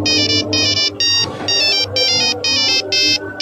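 Phone ringtone playing loudly and close, a repeating electronic melody in regular short bursts with brief gaps, over a faint background hum.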